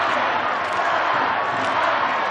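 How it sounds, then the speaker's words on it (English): An indoor hockey crowd in Leipzig counts down the last seconds of a World Cup quarter-final, a dense, steady roar of many voices chanting together throughout. "And the German crowd here in Leipzig count them through"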